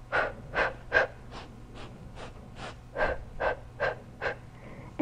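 Steady rhythmic breathing during a Pilates cardio workout, about a dozen short audible inhales and exhales in a regular pulse, close and clear over a low background hum, with no speech.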